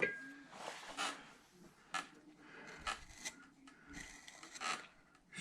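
A number 9 gouge shaves wood while carving a face, giving a series of short, quiet rasping scrapes in irregular bursts, close and soft.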